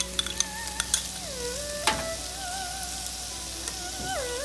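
Spring onion with green and red capsicum sautéing in a pan for a Chinese vegetable sizzler, giving a soft crackling hiss broken by a few sharp utensil clinks and tonal background whines, with no talk.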